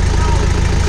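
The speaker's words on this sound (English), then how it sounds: "Stop the engine." A boat engine runs steadily at a raised idle while being flushed with Barnacle Buster descaler, a close, constant low rumble with no break in the sound.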